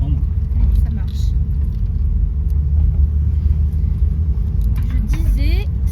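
A sports car's engine rumbles steadily from inside the cabin during a ride, a deep continuous drone with a passenger talking over it.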